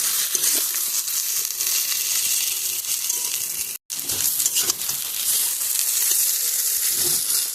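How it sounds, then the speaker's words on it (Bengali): Dry potatoes frying in a kadai, a dense continuous hiss and sizzle with scraping stirring throughout, close and loud, with a brief cut to silence midway. "কাপড় দিয়ে কড়াইটা ধরে তারপরে ভালো করে গাটাচ্ছি।"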